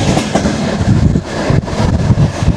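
An oncoming train rumbles past on the rails of a line in northern Russia, loud and close, with heavy rolling noise and rhythmic wheel clatter throughout.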